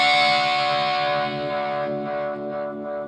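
Electric guitar run through a metal distortion pedal at a low gain setting, with scooped, wah-like mids. A single sustained distorted chord rings loud and slowly decays, with a faint swelling, nasal filter sweep and no talking.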